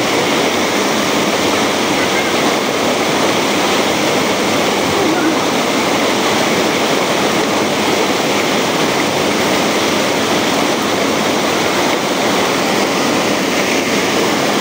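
River water rushing through a small hydroelectric intake, a loud, steady, broadband roar without pauses, close and continuous, with voices faintly talking beneath it.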